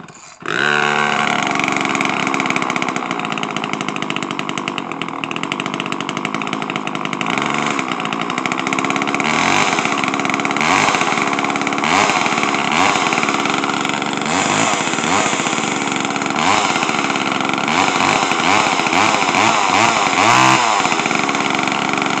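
Homelite Super XL chainsaw, just fitted with a new fuel filter, fires up and keeps running loud and close, its two-stroke engine revving up and down unevenly for about twenty seconds.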